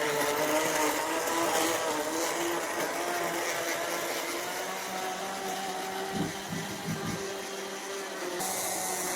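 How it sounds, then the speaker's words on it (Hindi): A small electric kitchen grinder runs steadily in a home kitchen, a continuous whirring motor drone at close range with faint clatter near the end, no voices over it. "ये जो ग्राइंडर है मेरे बहुत ही काम आता है"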